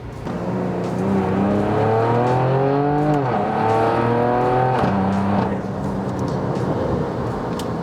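A Porsche Macan Turbo fitted with upgraded turbos accelerates hard from inside the cabin, its engine note climbing through the gears with sharp pitch drops at each shift, then settling into a steadier drone.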